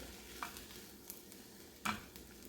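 Carrots are stirred into a cooking pot of borscht over a soft background sizzle, with a few brief utensil scrapes and knocks against the pot.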